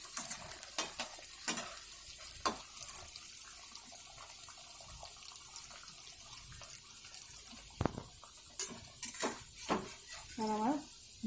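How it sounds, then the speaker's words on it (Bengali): Corn chops fry gently in a pan, a low continuous sizzle broken by occasional spatula scrapes and clinks, with someone speaking briefly near the end. "এটা আমাদের 2 মিনিট ধরে ভাজা হচ্ছে"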